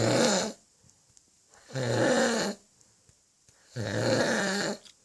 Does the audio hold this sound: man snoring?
yes